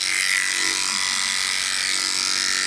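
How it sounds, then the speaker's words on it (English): Electric clippers run on a dog's coat, a loud, steady close buzzing drone that holds without a break and has no speech over it. "come in with my clippers and then just gently scoop that outwards"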